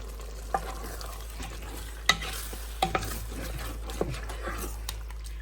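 Peach chicken with sesame seeds is stirred in a Ninja Possible Cooker, a soft bubbling simmer with a low steady hum beneath and occasional spoon clinks and scrapes against the pot.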